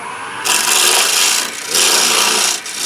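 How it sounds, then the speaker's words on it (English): Wood lathe spinning a bowl while a 1/4 inch spindle gouge cuts with a back-drag toward the center, producing two loud, close, hissing scraping passes with a brief dip between. "Now I normally go to a 1/4 inch spindle gouge."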